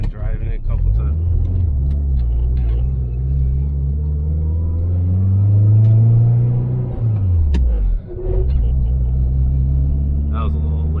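A DSM car engine drones steadily while driving, its pitch climbing under load, then dropping sharply during a slightly late gear shift before rising again; the engine is loud and continuous, with a voice talking over it.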